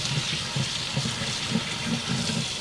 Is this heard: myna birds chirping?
no